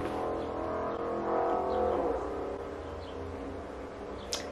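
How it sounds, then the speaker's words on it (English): A car goes by outside, a steady low rumble that swells slightly and then fades away, heard alone at moderate distance. "You should be at home, stupid car"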